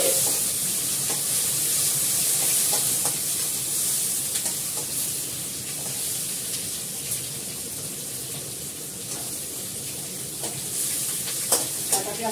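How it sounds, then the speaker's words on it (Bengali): Chopped onion fries in a pan with a dense, steady sizzle close by, and the scrape of stirring runs through it for the whole stretch. Faint clicks and crackles stand out now and then, and no one speaks. "কাটা পেঁয়াজটা ভালো করে লাল করে ভেজে নিই"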